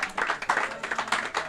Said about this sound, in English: Applause from the supporters around the ground